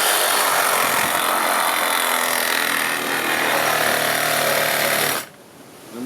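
Steady broadband rasp of a saw or power cutting tool biting into a Nissan 350Z OEM subframe bushing, loud and continuous for about five seconds before cutting off abruptly.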